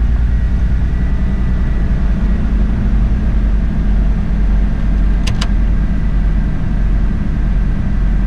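A Ford F150 truck engine runs steadily while driving on the road, a loud continuous low drone with road rumble and a brief high chirp near the end.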